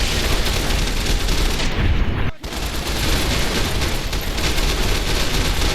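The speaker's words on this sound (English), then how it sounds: "they're shooting me!" Rapid, loud gunfire sprays toward the player in Fallout New Vegas, a dense continuous barrage that breaks off for an instant and then resumes just as heavily.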